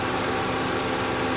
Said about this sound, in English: the engine's running good